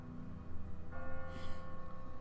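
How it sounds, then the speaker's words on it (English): Church bells toll in The Walking Dead video game, a sustained ringing tone with layered overtones that swells about a second in, steady and moderately loud over a low background drone. "Can we get out the street while those bells are tolling?"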